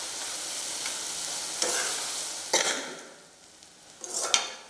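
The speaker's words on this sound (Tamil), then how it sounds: "இப்போ இந்த இடியாப்பத்தையெல்லாம் நீங்கள் இதில் போட்டுட்டிங்கன்னா நல்லா இழுத்து கொடுக்கணும்" Vegetable masala idiyappam being stirred and pulled in a hot pan, a continuous soft sizzle broken by a few scraping strokes of the spatula against the metal, close up with no talking.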